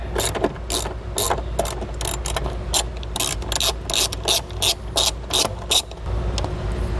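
A ratchet wrench clicks steadily as it loosens a 10mm bolt on the vehicle ground of a 2014 Acura MDX during a trailer wiring install, with rhythmic bursts of pawl clicks close up and no talking.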